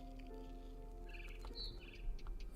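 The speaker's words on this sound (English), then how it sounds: "Then I heard chirping outside my window." A barn swallow chirps outside a window in the video game What Remains of Edith Finch: a few brief, high twittering calls rise over a steady low background hum.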